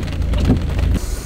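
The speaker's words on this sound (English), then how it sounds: "This guy driving in the rain with the soft top down." Rain pours down on an open Miata as it drives with the soft top lowered, a steady broadband hiss of raindrops over a low rumble of wind and road noise, continuous and fairly loud.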